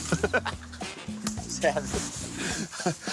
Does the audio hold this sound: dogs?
yes